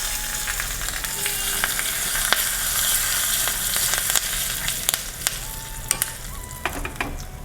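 Curry leaves and mustard seeds sizzling in hot ghee for a tempering, a dense steady crackling fry with scattered sharp pops and spatters, close and continuous without talk.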